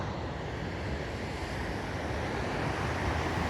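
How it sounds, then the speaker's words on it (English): Ocean waves pounding the rocky coast along the Cabot Trail in Cape Breton, a steady, full roar of surf mixed with wind buffeting the microphone, continuous and loud throughout. "And the waves pounding in to the coast."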